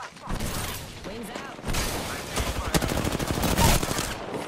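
Rapid automatic gunfire in a first-person shooter video game, a dense, loud string of sharp shots that grows heavier toward the end, layered with game sound effects and a talking voice near the start.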